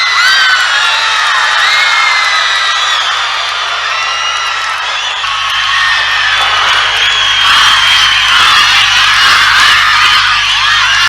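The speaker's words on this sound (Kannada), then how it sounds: "ಮೋದಿ ವೇದಿಕೆಗೆ ಬರ್ತಿದ್ದಂತೆ ಮೋದಿ ಮೋದಿ ಎಂದು ಅಭಿಮಾನಿಗಳು ಹರ್ಷೋದ್ಗಾರ ತೋರಿದ್ರು" Crowd of fans at a public event in a stadium in Bengaluru, cheering and shouting as Prime Minister Modi arrives on stage, a loud, dense, sustained roar with rising whoops that swells in the second half.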